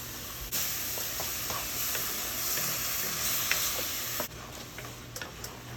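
Fried onions and tomato paste for palak paneer sizzle loudly and steadily in a pan, with soft scraping stir strokes over the hiss; no one speaks.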